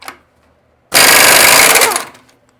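An impact wrench rattles hard for about a second while loosening the axle nut on a Ferrari F355 hub. The burst is close and loud, follows a short faint tap, and tails off quickly.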